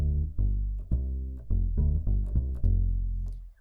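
A bass walks through a 1-6-2-5 turnaround in a walking bass line, about seven or eight plucked notes at a steady walking pulse, each one sustaining, played alone with no talking.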